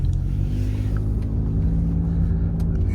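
A Ford F150 pickup fitted with PowerStop Z36 truck and tow brakes rolls along just before braking, giving a loud, close, steady low engine and road rumble that holds without pause, with no voices.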